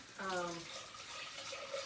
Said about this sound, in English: now I'm just going to pour it back into my pot